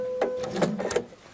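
A sewing machine stitches a tunic shirt at the bottom of a slit, turning with two stitches, in a few quick, faint mechanical pulses over little more than a second.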